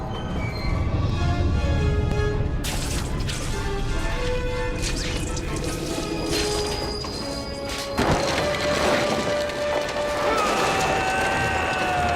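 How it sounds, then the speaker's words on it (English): A speeding runaway train in the 2004 Spider-Man 2 video game roars continuously, with loud metallic crashes and screeching tones near the start and again midway. "I've got to stop this train."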